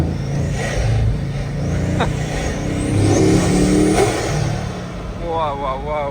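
A Bugatti Mistral roadster's engine revs and accelerates with a loud, sustained roar from inside the car, rising and falling, while a passenger talks excitedly over it.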